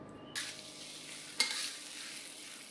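Shredded potatoes tossed in a hot wok, with a soft continuous sizzle and a couple of quick scraping, clattering turns near the start and middle, moderately quiet and close.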